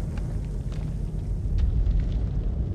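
Explosions in the horror game House of Ashes: a low, rumbling roar of blasts, steady and heavy throughout with faint crackles above, swelling slightly toward the end, with no talk over it.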